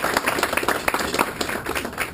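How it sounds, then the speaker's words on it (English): An awards-ceremony audience at the Fortissimo Awards claps for the board of directors; the hand claps are distinct and fairly sparse, landing in a loose, uneven patter at moderate volume. "Let's give them one more round of applause."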